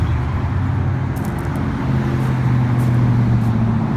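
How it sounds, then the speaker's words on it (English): A city bus arrives through street traffic. Its loud engine gives a steady, close rumble, and the tone shifts partway through as the vehicle pulls up. No one speaks. "oh hey, there's my bus"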